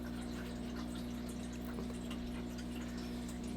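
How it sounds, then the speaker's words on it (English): Water trickles and splashes steadily into a DIY hybrid undergravel filter reservoir on a 20-gallon aquarium, over a constant low pump hum, with no voices. "this reservoir is filling up and the water is coming through here"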